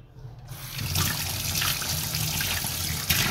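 Water runs steadily from a tap into a home sink for handwashing, a close, even splashing rush that starts abruptly after a brief quiet moment and continues without talk.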